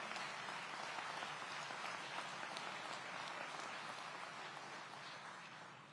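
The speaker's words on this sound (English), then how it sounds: "Let's give her a round of applause." Steady audience applause fills a public safety and engagement event for the City of Aurora, dense clapping holding evenly for about six seconds and easing slightly at the end, with no voices.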